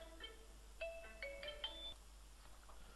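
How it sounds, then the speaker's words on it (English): A phone ringtone from an incoming call sounds faintly in a workshop during a 500W ATX power supply repair, a short run of bright electronic tones that rises and falls and then stops. "Yep, phone call."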